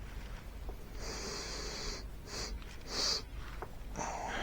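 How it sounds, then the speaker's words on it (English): Several short sniffs at pineapple-flavoured sour candy, a few quick breathy inhalations spaced irregularly and close, with no talking. "Sniff."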